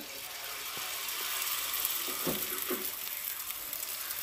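Oats frying slowly in a pan over medium-low heat, a soft steady sizzle with a few faint scrapes of stirring, fairly quiet throughout.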